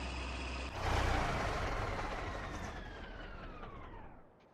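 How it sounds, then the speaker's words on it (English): Farming Simulator 17 tractor engine shutting down: a steady low idle rumble swells briefly with a hiss, then the engine note winds down and fades over several seconds. "Let's go shut this tractor down."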